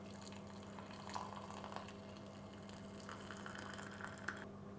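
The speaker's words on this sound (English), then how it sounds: "I'm just going to pour some boiling water on top." Boiling water poured into a cup, a faint continuous splashing trickle with a low steady hum beneath it.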